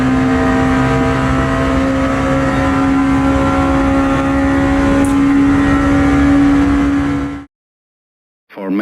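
A race car engine in the Le Mans Ultimate sim racing game drones steadily at a loud, constant pitch as the car rolls from the garage toward the pit exit, then cuts out abruptly before a short return.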